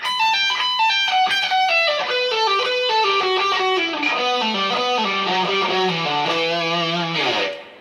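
An electric guitar with distortion plays a fast descending legato run: rapid, evenly flowing notes that step steadily downward in pitch, loud and solo, ending with a brief cutoff.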